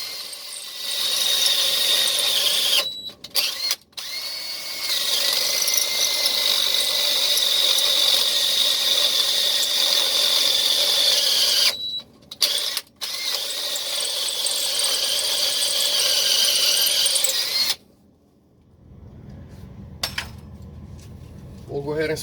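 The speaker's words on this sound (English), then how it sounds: "So we'll spin the drill and slowly work our way in." A power drill whines steadily at high pitch for long stretches while drilling out a stripped transmission bolt on a Freightliner truck, pausing briefly a few times before stopping, with a softer rustle afterward.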